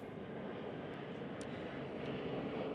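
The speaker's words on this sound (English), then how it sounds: "We got a Delta plane flying right above us, so can't hear anything when that happens." A Delta airliner passes low overhead at a horse racetrack, its engine roar a steady broad rumble that blankets everything, with no voices heard.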